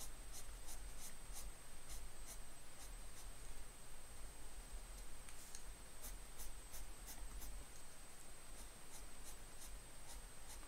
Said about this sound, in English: I just use the pencil and just flick the color up.